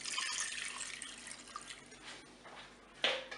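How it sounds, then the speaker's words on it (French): Water poured into a Cookeo electric multicooker pot while cooking a pork and vegetable potée, a soft, steady trickle and splash, fairly faint and continuous, with a brief louder splash near the end. "Et je vais rajouter 200 ml d'eau."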